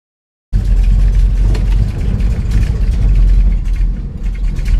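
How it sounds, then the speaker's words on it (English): A Dodge Dart engine with a carburetor fault labors at half throttle, a loud, rough, rumbling drone that starts abruptly and holds unsteadily as it struggles to keep running. "I'm at like half throttle right now and it's barely keeping it alive"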